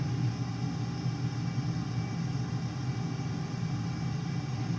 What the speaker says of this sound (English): I definitely hear those afterburners now.